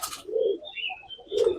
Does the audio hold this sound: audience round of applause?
no